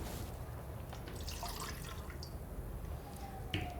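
Water pours into a container as the first step of making an agar bioplastic, a faint, steady trickle with small splashes and drips, heard alone without talk.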